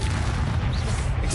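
A Confringo explosive spell goes off in Hogwarts Legacy, a dense rumbling blast that fills the short moment at full, steady strength.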